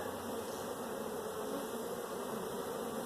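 Honey bees buzz steadily throughout a bee yard, a dense continuous hum close by with no talking.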